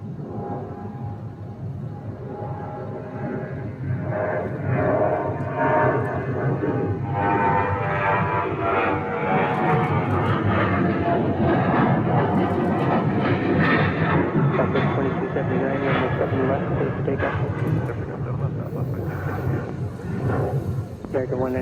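An American Airlines heavy jet lines up on runway 7 left at Phoenix, with a broad, steady engine rumble and whine, and a voice talking over it throughout.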